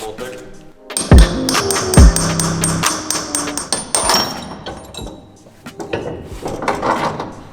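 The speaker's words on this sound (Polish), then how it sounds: "Teraz młotek." A hammer strikes metal on a go-kart, a run of uneven, close clanks and knocks following two brief power-tool bursts, with some talk mixed in.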